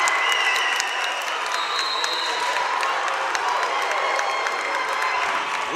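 A crowd at a boys high school basketball game cheers and applauds for an away team, dense sustained clapping mixed with scattered shouts that stays loud from start to finish.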